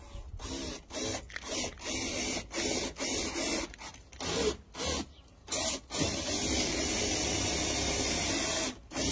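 Hand rivet pliers setting a rivet on a Fiat Ducato 1.9 TD camper van bumper: a run of repeated close mechanical squeezes and clicks in irregular bursts, then one longer sustained grinding stretch, no voices.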